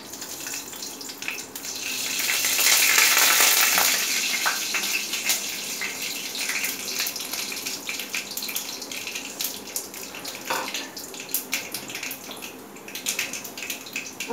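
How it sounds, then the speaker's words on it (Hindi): Mustard seeds crackle in hot oil in a kadhai, a steady hiss dotted with sharp pops that swells early on and keeps sputtering throughout, with no voices. "हमारा राई भी चटक गया"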